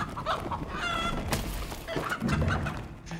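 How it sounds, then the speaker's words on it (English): A chicken clucks and squawks inside the fantasy dungeon game Dark and Darker, loud, close and busy through the whole stretch, with bursts of game noise around the calls and no talk. "It's turned into a chicken."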